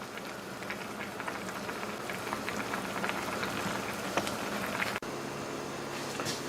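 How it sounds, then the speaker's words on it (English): A pot of crab stock for a classic French crab Americaine simmers on the stove, giving a soft, steady bubbling with light popping that carries on unbroken. "so it's been simmering for a good 45 minutes anyway"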